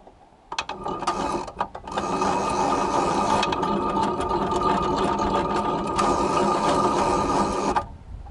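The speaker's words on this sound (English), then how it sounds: "we'll show the motor through all three and how the whole coil works" Motor and gear train of a GRS three-position top-of-mast railroad semaphore signal run with a steady, close mechanical whir and fine ratcheting clicks, starting after a brief pause and stopping abruptly near the end.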